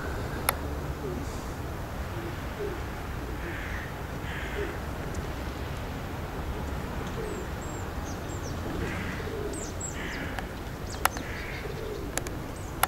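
Pigeons cooing in soft, low repeated calls, a few scattered hoots at moderate distance over a constant broadband hiss of wind or outdoor noise.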